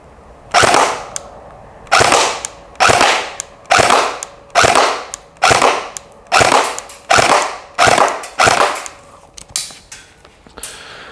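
A KWA Ronin T10 airsoft rifle fires ten single shots at a steady pace of about one per second, each a sharp, loud, close crack with a brief mechanical clack and a short decay.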